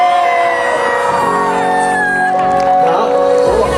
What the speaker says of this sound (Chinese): 叫尖叫声一下！